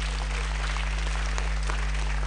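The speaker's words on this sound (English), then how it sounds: "Clap for the Lord." A church congregation claps during a Sunday service, a steady blur of many hands over a strong low electrical hum, continuous and fairly loud across the short stretch.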